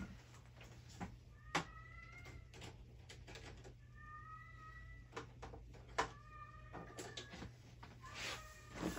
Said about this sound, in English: The cat is serenading us now.